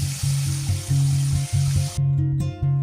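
Tapioca-flour-coated chicken wings frying in hot oil, a steady crackling sizzle with rhythmic low thumps underneath, close and moderately loud with no talk.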